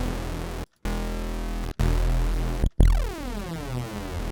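A sustained synth tone with a swirling, thick chorus shimmer, cut by brief silences, then a final note that sweeps and fades out.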